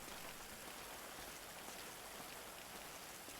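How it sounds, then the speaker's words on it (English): Rain falls in the GTA 5 video game as a faint, steady hiss of drops that runs unbroken and even across the whole stretch, with no voices over it. "It's raining."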